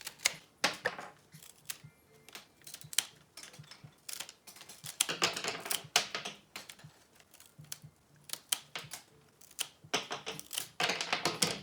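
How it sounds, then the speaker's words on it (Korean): Mini white rose stems, tied into a large bouquet, are snipped to an even length with sharp, close cutting clicks that come in quick irregular bursts, with no talking. "묶으셨으면 끝에를 잡고 줄기를 일정하게 잘라주세요"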